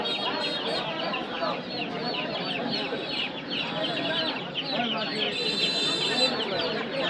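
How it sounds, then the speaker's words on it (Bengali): A crowded chorus of month-old Khaki Campbell ducklings peeps and chirps continuously, dense and steady, with voices talking faintly in a busy village market background. "এখানে খুব সুন্দর সুন্দর খাকি ক্যাম্বেল হাঁসের বাচ্চা আছে"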